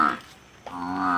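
A buffalo lows at a maize-field farm, two close, loud moos with a short dip between them, the second a long, steady call.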